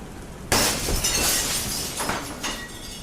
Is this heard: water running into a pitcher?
no